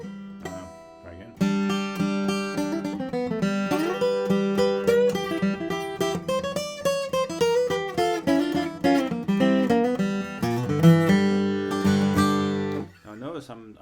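Flatpicked bluegrass acoustic guitar playing a passage ending in a G run with all-downstroke rest strokes; a continuous stream of crisp picked notes, close and clear, without any voice.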